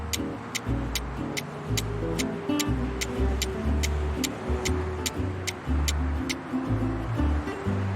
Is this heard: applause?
no